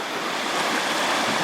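A river in the San Gabriel Mountains rushes steadily at a camping spot, a dense continuous broadband wash of flowing water, close and fairly loud with no voices.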